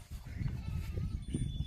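Goats bleat in a village setting near a soybean field, short calls rising over a steady background murmur across the brief stretch.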